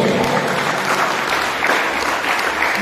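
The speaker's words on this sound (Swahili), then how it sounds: "Chapia ya Mungu aliye hai, makofi mazuri." A church congregation applauds during a lively worship service, the dense clapping steady and continuous for the whole stretch, filling the room at close range with a faint murmur of voices underneath.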